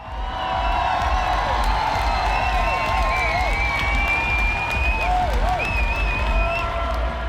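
A large outdoor crowd along the Amsterdam canals cheers and claps in a sustained swell, with shouts, whistles and high whoops rising over a steady roar and low rumble.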